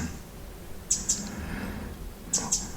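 Two pairs of quick, high bird chirps stand out faintly over soft background noise, spaced about a second and a half apart.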